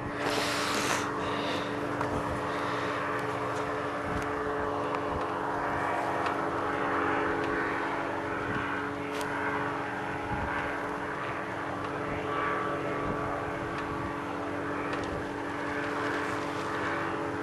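Propeller airplanes approaching to land at a Memorial Day fly-in at Quincy wash, a steady droning engine hum with a constant tone, moderately distant and continuous, with no talk.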